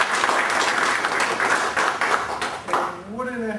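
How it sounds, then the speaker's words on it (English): An audience at a writing event claps for a few seconds, a dense burst of applause that fades out near the end as a voice begins speaking. "I want to give a big round of applause"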